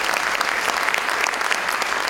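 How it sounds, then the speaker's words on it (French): Lively audience applause at a talk event, a dense continuous patter of many hands clapping throughout at steady loudness, with no speech on top. "Je pense qu'on peut applaudir Michel et Morgane."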